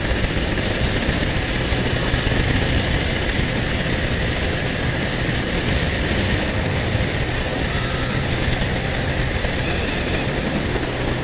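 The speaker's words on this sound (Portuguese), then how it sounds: "A gente tá chegando em um trecho que a moto fica fraquinha na subida, que é uma subida poderosa" A motorcycle engine labors up a steep hill on the road to Tibau do Sul toward Pipa, Rio Grande do Norte, a loud, steady, close droning roar that holds without a break and has no talk over it.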